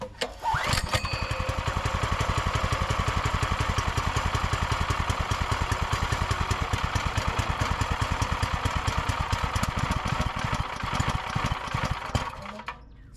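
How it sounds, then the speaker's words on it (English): A Predator 212cc horizontal shaft engine on an old tiller is pull-started and then runs at a steady, rapid chugging idle, loud and close, before cutting off near the end. "Fifth, we pull the string to start the engine."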